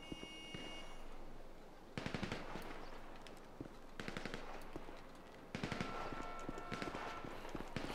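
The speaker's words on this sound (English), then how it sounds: "Lots of shooting going on." Gunfire in Grand Theft Auto 5 during a zombie survival mode: loud bursts of rapid machine-gun fire arrive in several clusters, separated by short stretches of quieter game ambience.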